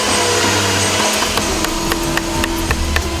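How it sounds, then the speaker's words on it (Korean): In a furniture workshop in Jepara, a hammer strikes the back of a sharp chisel carving wood, giving a run of repeated sharp taps at an uneven rhythm, close and loud over a steady noisy background. "예리한 칼날의 뒷부분을 망치로 두드리면서 조각을 새기는 이 일은"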